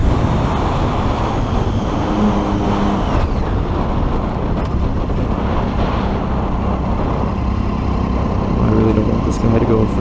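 A 2008 Triumph Daytona 675 motorcycle engine runs close and steady during a slow turnaround, a low continuous drone with a rider talking over it throughout.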